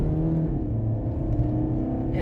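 A Fiat 500 with 87k miles pulls away under light to medium throttle, its engine giving a steady low drone that builds slightly over a couple of seconds.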